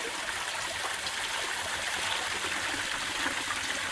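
Mountain stream water flowing past an aluminium baffle into the collection intake of a Tasmanian Powerspout micro hydro turbine, a continuous close rushing and trickling wash with no voices.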